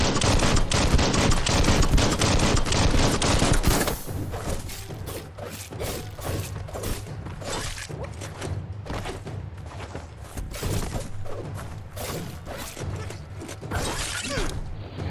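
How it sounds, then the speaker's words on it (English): Rapid gunfire in the Biomutant video game, a dense burst of shots at first, then scattered sharp cracks and thuds continuing steadily throughout. "Bullets everywhere."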